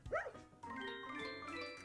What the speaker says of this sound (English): The dog at the stairs.